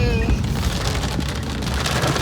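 Heavy monsoon rain pouring down in a flooded colony in Dehradun, a loud continuous dense hiss of drops pattering on surfaces, close and steady throughout.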